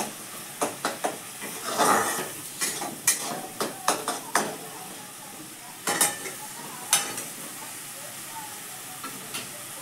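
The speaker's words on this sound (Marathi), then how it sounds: "हा मसाला आपण जरासं भाजून घेऊया." Masala roasting in a pan over low gas, a gentle sizzle under repeated scraping and stirring clatters of a spoon against the pan, irregular and close.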